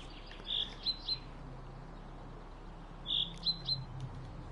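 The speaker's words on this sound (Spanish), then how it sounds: "Sonidos de atrae pájaros." Chirping bird-lure calls in the video game Sally Face: two short bursts of bright tweets, each made of three quick chirps, separated by a quiet gap, with no talk.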